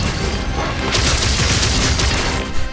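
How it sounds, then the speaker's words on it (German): Dense, continuous barrage of booming explosions striking monsters during a Monster Hunter Rise: Sunbreak hunt, loud and sustained with overlapping bursts and a rumbling low end throughout. "wenn sie diese ganzen Explosionen da abkriegen"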